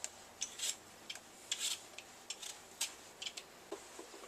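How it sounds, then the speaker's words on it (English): Potatoes being peeled by hand over a bowl, soft repeated scraping strokes in uneven short bursts, close and quiet with no voices. "first thing to do is to peel your potatoes"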